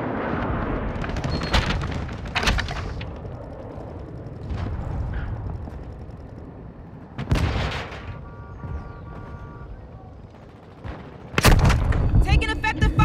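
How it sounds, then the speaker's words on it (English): Gunfire in the video game Call of Duty: Modern Warfare II: sharp, loud shot bursts strike at irregular intervals over a rumbling battlefield bed, with a heavy volley near the end. "Taking effective fire."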